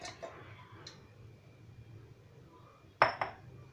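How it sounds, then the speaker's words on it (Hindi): Watermelon pieces dropping into a jar: a few soft knocks early, then two sharper clinks against the glass near the end, close by with no talk. "अभी हम एक जार में सारे टुकड़ों को डाल देंगे"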